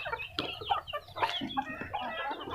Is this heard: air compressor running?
no